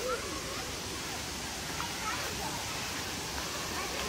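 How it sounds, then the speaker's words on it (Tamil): A waterfall in Kerala produces a steady, broad rushing roar of falling water that continues without a break, heard from a short distance as even background noise. "சத்தம்லாம் கேட்குது, தண்ணி சத்தம்."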